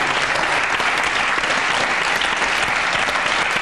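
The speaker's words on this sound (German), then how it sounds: "Ich denke, es ist ein Applaus wert" Sustained, dense applause from a TV game-show studio audience, steady and loud throughout with no pauses and no speech over it.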